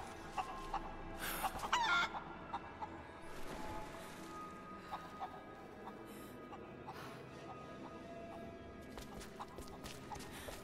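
Chickens in the video game Rise of the Tomb Raider cluck and crow in short, faint bursts over quiet game ambience, with one louder flurry near the start.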